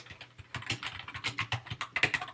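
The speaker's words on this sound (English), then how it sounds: "So all you need to do is type your answer, okay, in here." Fast, continuous clattering of keys on a computer keyboard, close and moderately loud, with no voices.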